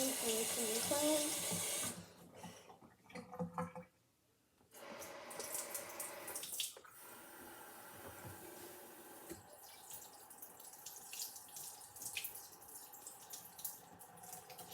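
Tap water runs into a sink while squishies are being rinsed clean. The splashing stream stops briefly, then carries on at a steady, soft level, with a voice heard at times.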